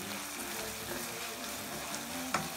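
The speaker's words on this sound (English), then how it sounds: "About 1 capful, in that goes, and we'll give that a stir straight away." Chicken sizzles in a hot wok-style pan as a capful of Shaoxing wine is stirred in, a steady close frying hiss with a brief utensil clink near the end.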